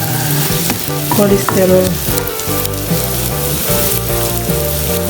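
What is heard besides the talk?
frying in oil left from frying fish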